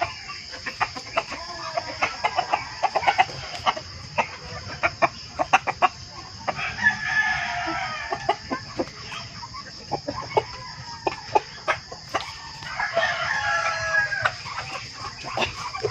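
Chickens cluck busily on a fenced rural farm while roosters crow now and then, layered with sharp pecking clicks and steady insect-like hiss across the yard.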